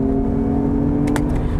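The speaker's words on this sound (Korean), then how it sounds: "엔진이 적극적으로 개입하면서 확실히 가속감에 있어서는 뭐 노멀 모드와는 좀 차이를 보여주고 있습니다" Lexus RX 500h F Sport hybrid SUV accelerating in sport mode with the engine cutting in, heard as a steady, fairly loud engine drone with tonal hum and brief higher whirring bursts near the end, no talk.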